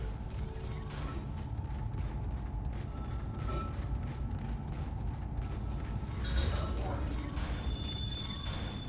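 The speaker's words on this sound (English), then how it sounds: "I hear the door." Mechanical creaking and clanking of a heavy sci-fi door mechanism in the Dead Space video game, low grinding under ambient hum, with a louder mechanical clunk and rising whir near the end.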